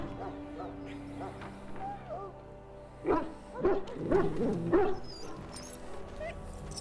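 A dog in the game Dragon Age gives a few short yips and whimpering barks mid-scene, over ambient game music and low background sound.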